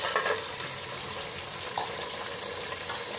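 Onions browning in a pan for palak chicken, a steady close hiss of frying with faint crackles, continuous and even throughout.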